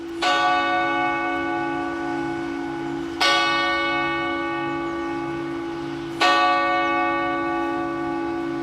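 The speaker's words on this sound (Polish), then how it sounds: "Msza święta rozpoczęła się biciem dzwonu katyńskiego." The large Katyń bell tolls three times at slow, even intervals to open a Mass, each strike ringing out loud and long with a rich humming decay between strokes.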